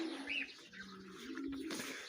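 A pigeon coos softly in a steady low murmur inside a pigeon loft, fairly close, with faint chirps and outdoor background noise around it.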